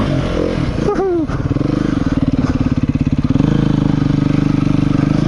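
A 2017 Beta 390RR dirt bike engine, close and loud, revs up sharply, then settles into a steady throbbing chug as the rider moves along a steep trail.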